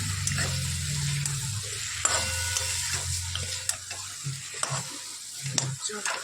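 Potatoes frying in a pan in a home kitchen, a continuous sizzle with a low hum at the start and intermittent clicks and scrapes of stirring, no speech.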